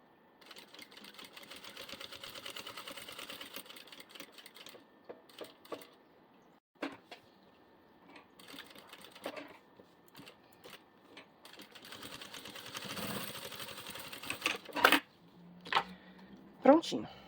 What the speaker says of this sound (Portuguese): Já passa uma costurinha aqui.